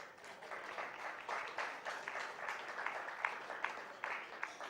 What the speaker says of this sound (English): Please put your hands together amidst your applause